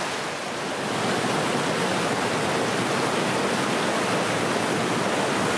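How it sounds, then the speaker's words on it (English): A crystal-clear mountain river, the Allt Druie in the Lairig Ghru of the Cairngorms, runs over rocks as a loud, steady broadband rush that stays unbroken, close and with no talking. "The river was crystal clear, filtering its way through the rocks on its way down the Lairig Ghru."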